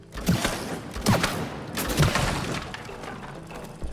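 Gunfire in the co-op video game It Takes Two, with three heavy booming shots spaced about a second apart over a dense mechanical game soundscape, followed by a busy rumbling backdrop.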